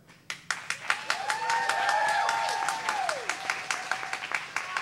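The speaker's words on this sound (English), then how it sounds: "don't applaud for that" Scattered audience clapping at an open-stage performance, sharp individual claps at first swelling into brief applause with whoops, then thinning back to sparse claps.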